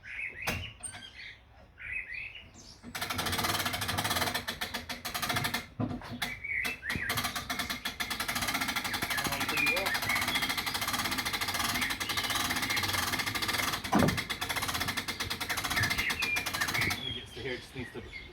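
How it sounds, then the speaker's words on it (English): Winch engaging to pull a rowboat up a timber ramp onto a trailer, a loud continuous mechanical rattle and grind that starts abruptly and runs steadily outdoors, with birds chirping nearby. "Winch is on, engaging."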